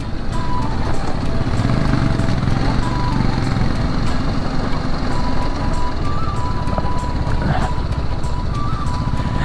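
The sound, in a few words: Royal Enfield Himalayan motorcycle riding through a water crossing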